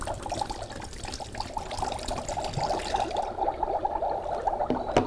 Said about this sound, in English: First thing we're gonna do is put water in here.